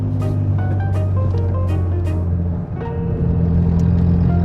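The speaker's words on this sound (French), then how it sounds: "J'entends très bien la route là" Road noise fills the cabin of a Citroën C1 fitted with Formula 1 tyres: a loud, steady low rumble and hum that continues without a break.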